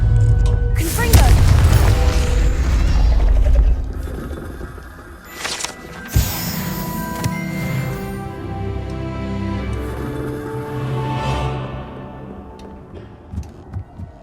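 A Confringo spell in the video game Hogwarts Legacy goes off with a loud, deep blast that rumbles for a few seconds, followed by quieter magical and mechanical effects and a voice speaking.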